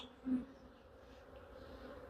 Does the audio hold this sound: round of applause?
no